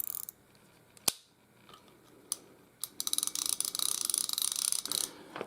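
Okuma Avenger Baitfeeder ABF-55 spinning reel's top drag ticking off in a fast, steady run of close clicks for the last few seconds, after a few isolated sharp clicks and a quiet start.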